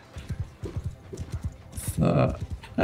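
Rhythmic clip-clop of horse hooves in Mount & Blade 2 Bannerlord, a steady galloping beat that gives way near the end to a louder burst of game noise.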